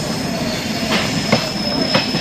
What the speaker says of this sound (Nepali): हाम्रो पछि पछि रेल गइसकेको छ। अहिले स्लोमा छ